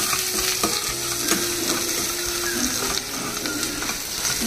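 A spoon stirring salt and chili powder together in a metal vessel for Konaseema-style chicken pulao, steady scraping and mixing close up over a bright background hiss.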